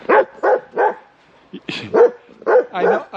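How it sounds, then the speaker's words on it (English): Several dogs bark close by in short, uneven bursts, with a few higher yips mixed in and no talking. "I'm back outside with my noisy puppies"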